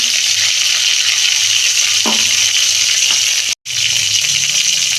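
Oil sizzling hard in a frying pan after fish was fried, a loud continuous hiss with a brief cutout near the end before the sizzle resumes.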